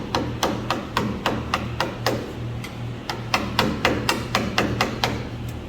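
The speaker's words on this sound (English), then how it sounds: "find an old screwdriver you don't like, find a hammer that you do like, and then just go to town." A hammer repeatedly strikes an old screwdriver to chip away material, a close series of sharp metallic taps in an uneven, steady rhythm with no talking.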